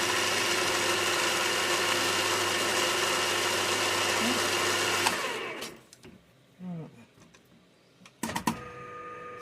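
A model engineering machine takes a fine 0.2 mm shaving cut on a live steam part, giving a steady whirring, humming drone for about five seconds before it stops, leaving faint clicks and small handling noises.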